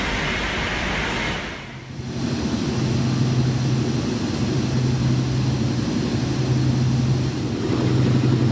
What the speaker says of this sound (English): the aeroplane soaring through the sky